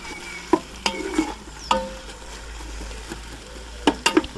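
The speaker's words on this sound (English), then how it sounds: "you can already start to hear that sizzling" Onions frying in a Ninja Foodi pot, a low steady sizzle broken by several sharp scraping stirs of a utensil against the pot, close up with no talking.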